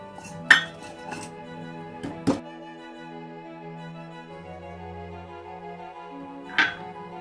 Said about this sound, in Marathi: एका वाटीला खालून तूप लावून हे मिश्रण आपण थापून घेऊया